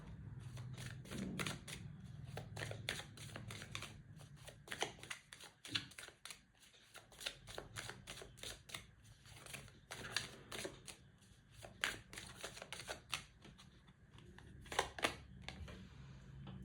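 Tarot cards being shuffled and drawn close up: a steady stream of rapid, crisp riffling clicks and soft card slaps, fairly quiet, with no talking.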